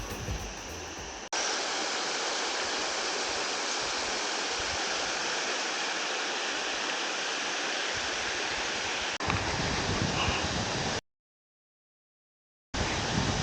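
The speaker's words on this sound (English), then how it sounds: "One of the waterfalls." A waterfall in the Peruvian rainforest roars as a steady, dense rush of water, loud and continuous. Its character shifts slightly partway through, then it cuts out briefly before returning.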